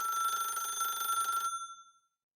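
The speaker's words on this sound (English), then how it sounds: "the phone on the desk suddenly rang" A desk telephone rings with a steady electronic bell tone for about a second and a half, then stops and fades away cleanly.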